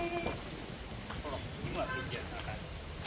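Steady rain in Kutch patters on surfaces in a soft, continuous hiss, with occasional faint drips and distant murmuring underneath.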